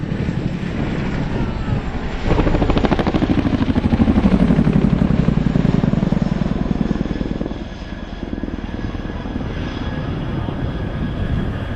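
RAF 27 Squadron Chinook twin-rotor helicopter displaying at an airshow, a loud, steady engine roar with rhythmic rotor thumping that swells in the middle and eases slightly toward the end, heard alone.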